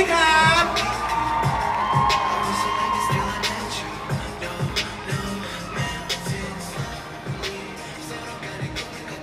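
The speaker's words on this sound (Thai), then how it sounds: "ขอเสียงปรบมือด้วยครับ" A crowd at a Bangkok press conference for a world tour encore claps and cheers over stage music, with rhythmic clapping and scattered whoops continuing steadily throughout.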